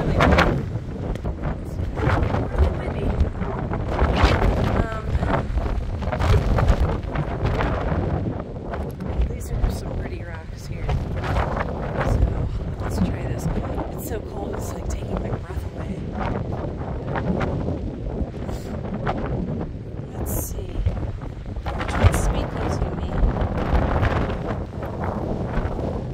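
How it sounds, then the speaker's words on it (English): Strong desert wind buffets the microphone in continuous roaring gusts, loud and close, with occasional louder bursts throughout. "It's really windy."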